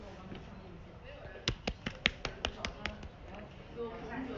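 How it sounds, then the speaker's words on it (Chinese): About nine quick, sharp hand claps ring out in a tight burst, close and crisp, in an indoor livestream celebrating a champion, with soft room noise before and after. "拍掌，大家鼓掌"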